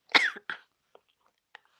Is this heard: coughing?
yes